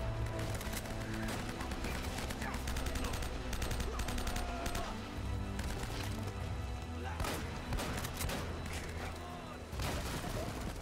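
Gunfire from an enemy shooting wildly in the Uncharted video game, a dense, continuous stream of rapid shots and thuds layered over game music and effects, loud throughout.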